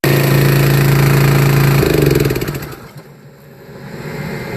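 The engine of a 10 kW backup generator for an off-grid solar setup runs loudly at a steady idle, then shuts off after about two seconds and winds down to near quiet.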